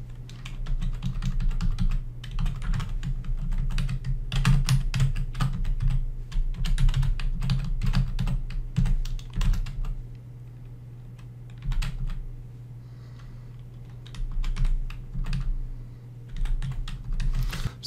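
Steady typing on a computer keyboard while entering data into an Excel 2016 form, with dense runs of clicking keystrokes, a brief pause near the middle, then more bursts of keys, close and clear with no talking.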